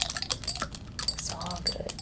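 Hair product being mixed in a small container for a scalp moisturizing treatment, a quick run of soft clicking and scraping taps, close and fairly quiet, with faint background speech-like noise.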